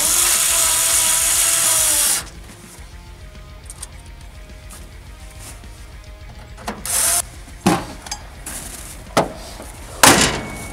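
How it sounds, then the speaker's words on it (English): Grill screws go back into a vehicle during a KC 7-inch LED headlight installation: after a loud hiss cuts off, a few short bursts of a power screwdriver and sharp clicks and knocks sound up close in an otherwise quiet space. "Reinstall your grill screws."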